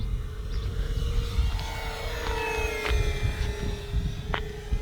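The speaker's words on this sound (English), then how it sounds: "I like just being quiet to hear that whistle." A thin, steady whistle from an Avios Twin Otter model airplane in flight drones over a rumbling outdoor background, with faint wind noise and occasional light clicks, distant and continuous.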